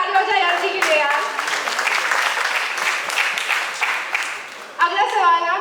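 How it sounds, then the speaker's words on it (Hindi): An audience at a 17-year anniversary celebration of the Taarak Mehta Ka Ooltah Chashmah show breaks into loud applause for Iyer, a dense, sustained clapping that swells again near the end, with voices mixed in. "एक बार जोरदार ताली हो जाए अय्यर जी के लिए यार"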